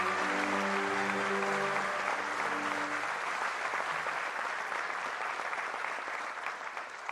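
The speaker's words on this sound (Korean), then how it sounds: "다시 한번 큰 박수를 부탁드리겠습니다" A large crowd applauding loudly and steadily for several seconds at a Korean Police Day ceremony, with faint music at the start, fading slightly at the end.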